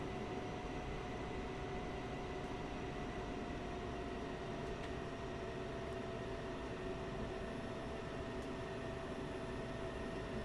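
F-16 jet taxiing in DCS, a steady, moderately faint engine whine with a constant tonal hum and broadband rush, unchanging throughout with no talk.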